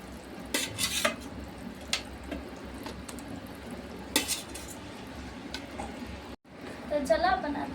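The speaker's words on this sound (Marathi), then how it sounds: "तर चला, आपण आता मच्छीला मसाल्यामध्ये हलवून घेऊ।" Fried fish being stirred into masala curry in a pan, with intermittent scraping clinks of a metal utensil against the pan, a few sharp louder knocks, and soft simmering noise between strokes.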